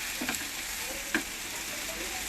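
Fried idli pieces are sautéed in a pan for idli upma, a soft steady sizzle with a couple of sharp spoon-on-pan knocks and no voices.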